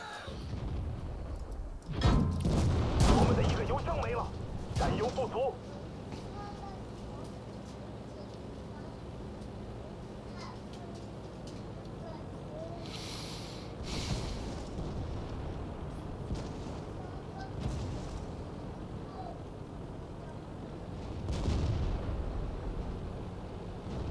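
Heavy tank cannon fire and explosions from a World of Tanks battle on a test server with the Chinese 112 heavy tank, booming hits in bursts near the start and around twenty seconds over a steady rumbling battlefield bed, with someone talking throughout.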